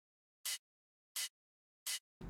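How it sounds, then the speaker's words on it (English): A hi-hat from an electronic music production track sounds three times at an even pace, each hit a short, bright, airy hiss, close and clean against silence, with a fuller hit cut off at the very end. "Alright, then we have this hi-hat,"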